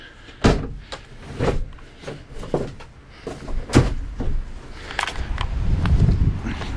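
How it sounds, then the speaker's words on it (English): Several heavy door thuds and clunks in quick irregular succession, the doors of a 1960 Volkswagen camper van being pushed shut up close, with shuffling and rustling between them. "So we'll just shut these doors."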